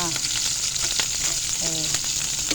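Dried fish (tuyo) frying in hot oil gives a loud, steady sizzle with crackling pops throughout, and a voice briefly talks over it.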